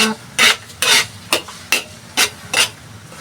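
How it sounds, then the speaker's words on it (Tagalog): Garlic being crushed by hand before going into a pan of melted butter for buttered mud crabs, with seven close, rhythmic scraping strokes about every half second. "Tuwin ko lang ang bawang bago ilagay"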